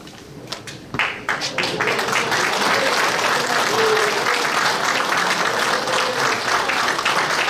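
An audience claps steadily through a gavel handover at the 36th regular general assembly of the Christian Council of Korea, after a few scattered early claps. The dense, loud applause keeps a constant level.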